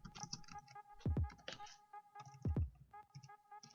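Typing on a computer keyboard to enter a search, with quiet clicking keystrokes in short runs, broken by a couple of low thumps, over faint background music.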